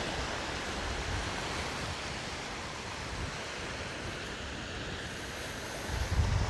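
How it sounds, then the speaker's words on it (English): Ocean surf on the beach at Hua Hin, Thailand, a dense continuous wash of waves with wind rumble on the microphone, steady and fairly loud with a slight swell near the end. "Oh, the beach gets even better over here."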